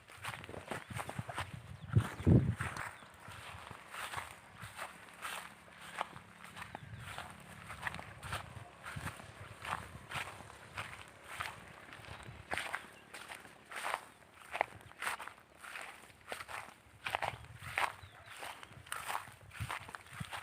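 Footsteps cross a rice field in a steady walking rhythm, close and fairly quiet, with one louder scuff or thump early on and faint ambient noise between steps.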